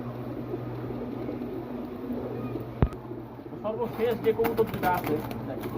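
Female pigeons coo in soft, low bursts, stronger toward the end, over a steady low hum and background murmur, with one sharp click near the middle.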